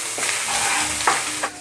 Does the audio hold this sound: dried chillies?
yes